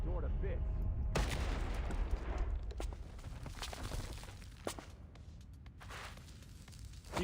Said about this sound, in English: The explosion sends smoke and dust flying in all directions.